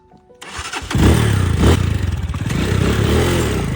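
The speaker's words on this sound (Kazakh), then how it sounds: "Мотоцикл айдайсың ба?" A motorcycle engine cranks with a brief clatter and catches, then settles into a steady, loud, close idle rumble with no talk over it.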